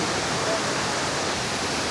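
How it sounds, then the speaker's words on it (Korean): A waterfall in Laos roars steadily nearby, a dense, continuous wash of falling water with no breaks. "저기 폭포가 뒤로 보이고 있습니다"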